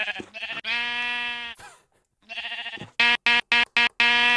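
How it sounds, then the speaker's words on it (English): Electronic-sounding Minecraft sheep bleats, long buzzy tones and then a run of short clipped repeats, loud and close with no voices. "Is that a bunch of sheep."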